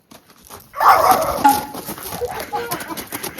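A tied-up dog barks and yips a few times close by, followed by softer whimpering noises mixed with outdoor background sound.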